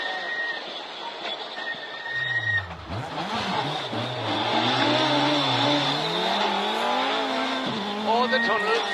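A car spins on a slippery track at a motorsport event, its engine revving and rising in pitch through a long loud pass with tire noise, while a commentator talks over it.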